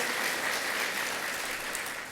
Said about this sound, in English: Let's give Congressman Higgins a big round of applause.